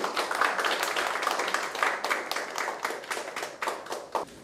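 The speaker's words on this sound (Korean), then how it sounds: "큰 박수 좀 부탁드리겠습니다." Audience applause for a speaker at a Seoul city forum on industrial accident prevention, a steady patter of many hands clapping at moderate level that thins slightly toward the end.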